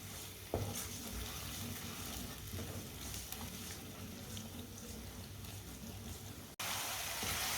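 Masala simmering in a pan after water is added, cooked as the base of a vegetable dish: a faint, steady sizzle with soft bubbling and a brief clatter near the end.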